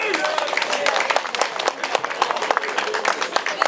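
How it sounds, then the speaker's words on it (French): Applause for a fisherman-competitor being awarded a jersey at the Ronde Picarde 2013: a crowd claps steadily and densely throughout, a dense patter of many hands, fairly close, with some talk mixed in. "que je vous demande d'applaudir très fort"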